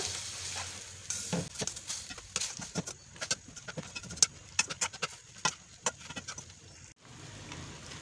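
Mutton with yogurt being stirred and fried in a karahi for Lahori mutton chops karahi, giving a steady close sizzle broken by repeated scraping clicks and knocks of the spoon against the pan, with no talking.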